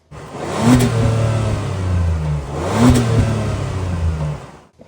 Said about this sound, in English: I heard those exhaust valves open too.